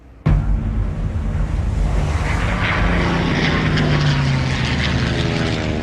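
Propeller fighter planes from the 1942 Battle of Midway roar in suddenly and loudly as a droning engine sound that stays steady and close, with piston engines buzzing overhead.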